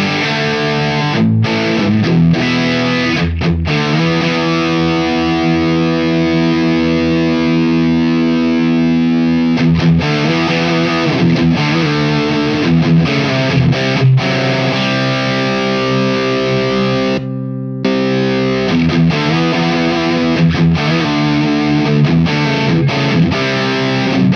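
Electric guitar through a Wampler Pantheon Deluxe overdrive pedal with gain maxed on both channels, playing loud, thick distorted chords and riffs with sustained saturated tone and a brief break, no talking.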